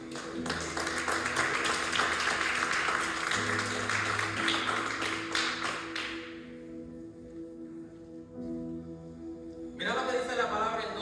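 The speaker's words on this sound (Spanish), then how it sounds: "Vamos a darle un aplauso." A church congregation breaks into dense, loud applause that stops abruptly, leaving quiet background music before clapping briefly resumes near the end.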